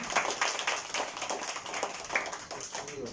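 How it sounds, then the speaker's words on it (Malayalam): Children and staff at a special school's Independence Day event in Guruvayur clap in scattered, uneven applause, fairly close and without speech. "അതെന്താ എന്റെ മക്കൾ വലിയൊരു ക്ലാപ്പ് കൊടുക്കുന്ന"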